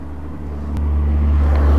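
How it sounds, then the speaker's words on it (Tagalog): Steady roar of heavy traffic passing on a highway, a loud continuous low rumble that swells slightly as vehicles go by close at hand, with no talk over it. "Maraming sasakyan eh."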